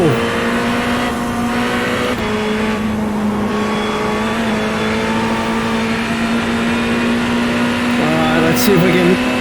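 Race car engines in the iRacing sim racing game drone at a steady high pitch, loud and continuous, with a brief shift in tone near the end.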